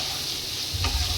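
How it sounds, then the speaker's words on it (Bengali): Egg tadka with dal stirred in a pan with onions and spices, a quiet sizzle with a brief scrape of the spoon near the end. "ডালটা দিয়ে আমি কিছুক্ষণ নাড়িয়ে চাড়িয়ে নেব"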